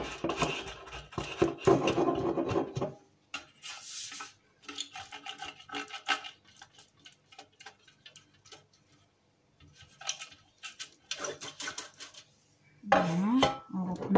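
A spoon or spatula mixes chocolate brownie batter in a bowl and then spreads butter around a baking pan. The sound is a series of faint, intermittent scrapes, ticks and light clinks against cookware.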